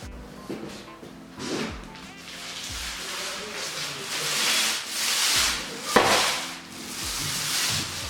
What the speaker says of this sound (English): I sanded the walls